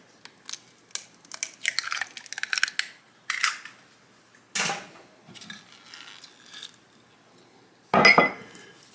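Whisk or spoon scraping and clinking in a bowl as an egg is beaten into chess pie batter, in short irregular bursts with pauses, ending in a louder sharp clatter near the end.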